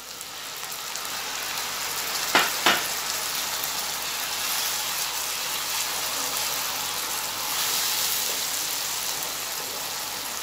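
Tomato puree goes into a pan of sizzling onion, garlic and ginger paste, setting off a steady hiss of frying with two sharp spattering bursts partway through.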